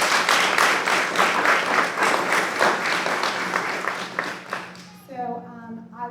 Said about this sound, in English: so let's give her a nice round of applause.